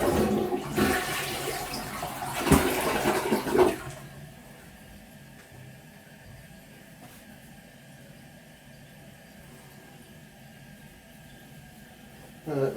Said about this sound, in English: got the tank on, put the hose on, started filling it up